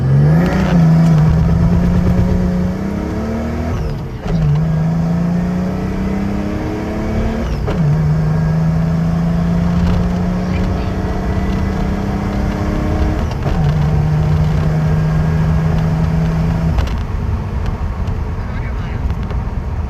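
A turbocharged Mercedes OM603 diesel engine winds up hard through several rising gear pulls, loud and close, with the revs dropping at each shift, and voices talk over it.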